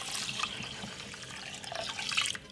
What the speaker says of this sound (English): So I'm gonna put some water inside of it like this.